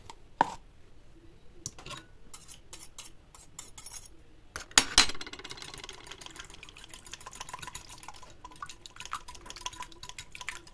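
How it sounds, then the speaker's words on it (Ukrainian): Yogurt is whisked in a bowl with a utensil, giving quiet, irregular wet scraping and clinking taps, with a sharper clatter midway and then steady soft stirring. "І оце взбиваємо"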